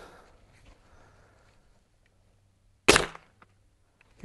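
One sharp, loud crack from a Hatsan SpeedFire .177 air rifle firing light pellets, standing alone after near silence with a brief decay.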